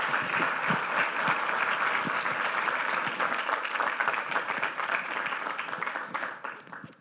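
Audience applause at a talk, sustained and dense clapping from a sizable crowd throughout, steady and loud before tapering slightly at the end, with no voices over it.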